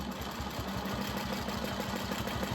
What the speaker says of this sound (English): I'm going to use my ruler foot to quilt these diagonals